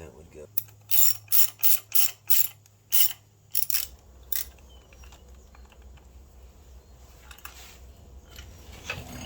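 Ratchet wrench tightening a voltage regulator on a custom Harley Sportster chopper, about eight quick clicking bursts in a steady rhythm, close and crisp, followed by quieter handling noises.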